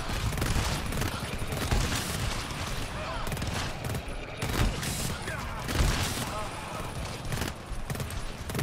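Three-round burst gunfire in the video game GTFO, rapid shots that run almost continuously under game noise, with someone talking over the firing.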